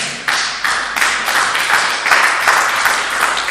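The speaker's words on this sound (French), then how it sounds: "On acclame la parole du Seigneur." A church congregation applauds, a sudden burst of many hands clapping that rises sharply and stays full and even for a few seconds, close and lively.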